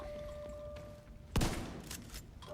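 A single sharp gunshot in The Division 2, loud and close, rising out of quiet game ambience, followed by a fainter tail and a few softer impacts, with no talk.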